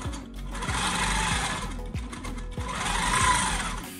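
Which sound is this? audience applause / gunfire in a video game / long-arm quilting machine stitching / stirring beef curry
long-arm quilting machine stitching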